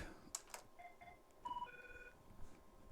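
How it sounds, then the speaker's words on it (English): A telephone rings during a live comedy show, its electronic tones sounding in short bursts at moderate volume over a faint room background, with no talking. "The phone is ringing."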